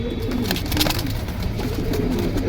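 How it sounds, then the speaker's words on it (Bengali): Marshal Jagla pigeons at a pigeon sale, cooing close by in low, throaty rolls over a dense, busy background. "মার্শাল জাগলা কবুতরটা কিন্তু খুব সুন্দর"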